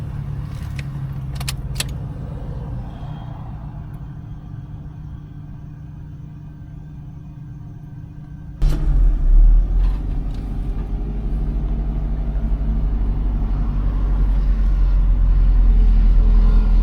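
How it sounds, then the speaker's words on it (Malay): A Perodua Myvi has its key turned, with keys jangling and faint clicks first, then the engine catches with a sudden low rumble and settles into a steady, close idle, no voices. "Okey, kita on switch kereta,"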